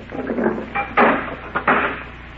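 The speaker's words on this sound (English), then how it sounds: "Go ahead, get in so I can lock the door." A heavy door swings shut and locks in an old-time radio mystery drama, a constable locking someone in for the night: a short scraping rattle, then two close, solid clunks about half a second apart, with no voices.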